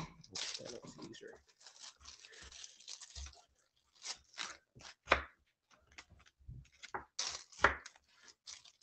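Dogs crunching on raw carrots, close irregular crisp bites and chewing crunches in bursts with pauses, with brief talk early on.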